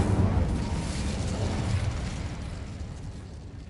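An Incendio fire spell bursts in a Hogwarts video game as a loud whooshing, roaring blast that starts at full strength and gradually fades out over a few seconds.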